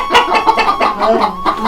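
A chicken clucks in a quick run of short, throaty bursts, close by and fairly loud.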